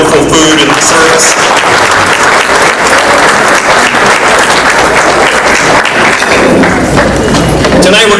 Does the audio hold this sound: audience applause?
yes